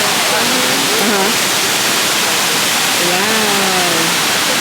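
Waterfall roaring steadily up close, a loud unbroken rush of falling water, with people talking over it.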